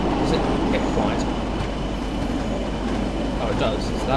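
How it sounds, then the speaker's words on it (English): Class 40 diesel locomotive brakes in a train simulator game, a steady low rumbling hiss with faint rail clatter, continuous throughout, while a voice talks over it. "So that's the noise of the brakes."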